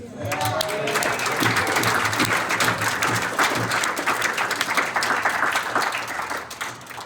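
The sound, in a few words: audience cheering and applauding for Georgie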